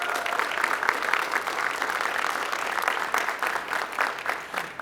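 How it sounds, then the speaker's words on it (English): Audience at an Asian American Heritage Month press conference applauding, dense even clapping from many hands that continues without pause for several seconds. "Let's give them a nice round of applause."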